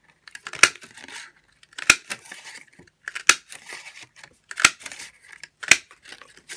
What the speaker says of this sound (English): let's punch out a couple of extra flowers